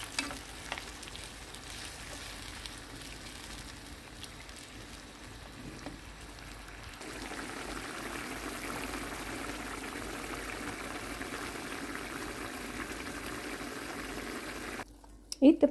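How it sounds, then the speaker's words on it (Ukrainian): Water is poured into a pot of stewing borscht vegetables, turning a soft sizzle and stir into a steady, louder rushing hiss that continues in a home kitchen. "Через 5 хвилин тушкування заливаємо водою."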